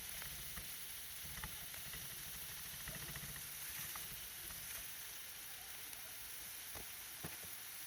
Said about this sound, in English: Again, I love that sizzle.